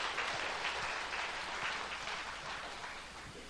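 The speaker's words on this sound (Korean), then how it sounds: "스스로 자축의 박수 한번 보내시기 바랍니다" Applause from a lecture audience at a public talk in Gimje, Korea: a faint, steady patter of many hands clapping at a distance, slowly tapering off.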